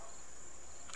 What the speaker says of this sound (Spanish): parecen como grillos o algo